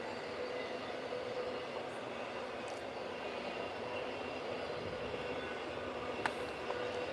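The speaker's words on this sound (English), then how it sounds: "the first train of the morning is going by" A train rumbles past steadily in the background at an outdoor high school track meet, a broad, continuous roar with a faint whistle-like tone near the end, no voices over it.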